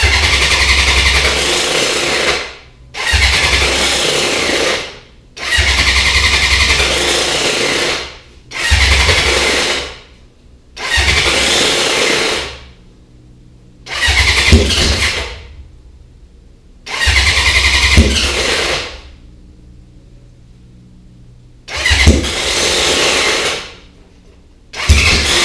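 A stretched, wide-tire Honda CB750 motorcycle being worked on for fuel leaks cranks over in loud, close bursts, about eight separate attempts with short silences between them, the engine catching and running briefly near the end.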